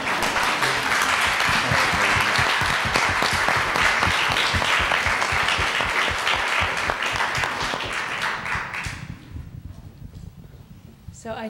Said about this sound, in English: join me in a round of applause for Scott Simon and the panel.